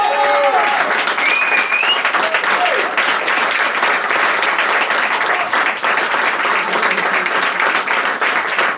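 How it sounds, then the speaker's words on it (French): Loud, dense applause from a large audience fills the whole stretch, steady and continuous, with a faint whistle or cheer near the start. "Je vous demande d'applaudir"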